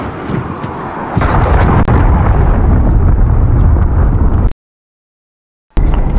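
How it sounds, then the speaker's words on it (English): A cruise missile explodes in Call of Duty as a loud, sustained rumbling roar. It holds steady for several seconds, cuts abruptly to silence, then the roar returns briefly. "Cruise missile away."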